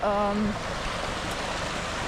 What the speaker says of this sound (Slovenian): tukaj je potok